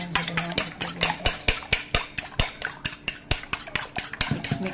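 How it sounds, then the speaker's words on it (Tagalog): Two eggs beaten in a bowl produce a fast, even run of sharp utensil clicks against the side, about four or five strokes a second, close and crisp with no talking. "Mix muna natin."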